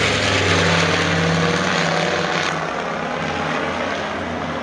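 A Nord Noratlas N2501, a 21-tonne twin-engine propeller transport of almost 4100 hp, flies past at an air show at Hahnweide, its engines a loud, steady droning roar that fades slightly toward the end.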